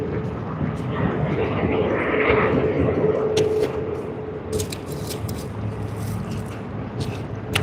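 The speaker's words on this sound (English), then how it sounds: "here you are, the mighty Airbus A380 from Singapore" Qantas Airbus A380 landing at Sydney on arrival from Singapore, a moderate jet rumble and whine that swells then eases, with a voice talking and clicking noises later.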